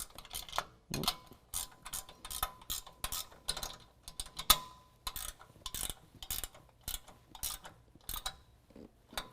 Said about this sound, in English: Take our 16 millimeter ratcheting wrench and go ahead and tighten that down